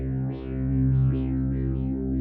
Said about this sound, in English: on B, I've got some delay